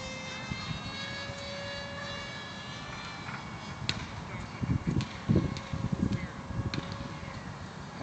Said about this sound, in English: There was an airplane up there or something.